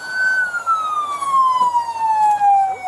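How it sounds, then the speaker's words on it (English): A loud siren wails close by, its single tone sliding steadily downward, with faint road noise beneath. "You got the siren on?"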